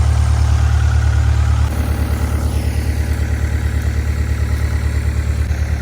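A skid steer with T-bar handles sits running, its heavy diesel engine droning at a steady idle, loud and close throughout, with a slight drop in level partway through and no speech.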